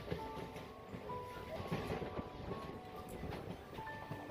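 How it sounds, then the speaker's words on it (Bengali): A local train enters Sheoraphuli Junction station with a continuous rumbling rattle and a few faint tonal squeals, heard from on board at a fairly even level. "আমাদের ট্রেন এখন শাওড়াফুলি জাংশন স্টেশনে ঢুকছে"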